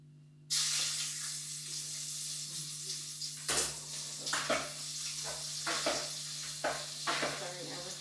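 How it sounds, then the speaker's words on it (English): Hot oil hisses steadily in a pan as a piece of pepper fries, a continuous loud sizzle punctuated by several clinks and scrapes of utensils against the pot. "I'm just gonna cut a piece of pepper to put in the oil to burn as well."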